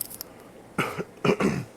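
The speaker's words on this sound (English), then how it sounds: "I hate doing that coughing" Two sharp, close coughs, the second a harsh double burst, break an otherwise quiet room.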